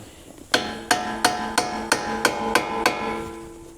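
A hammer strikes a cheap aftermarket coilover for a GD3 Honda Fit: eight close, ringing metallic blows in an even, steady rhythm, with no talking.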